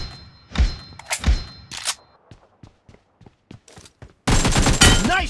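Gunfire in a first-person shooter game: a few heavy, close single shots, then scattered quieter shots and thuds, ending in a loud sustained burst of rapid fire.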